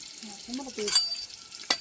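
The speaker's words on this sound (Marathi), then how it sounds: "कांदा जरा परतू" Onion sautéing in a pan for a spiced masala, with a brief sizzle and stir sounds under soft background voices and a sharp clink near the end.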